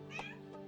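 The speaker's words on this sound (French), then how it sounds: "c'est mon chat qui toque à la porte pour que je l'ouvre" A house cat at a closed door gives a single short, faint meow close by in a quiet room.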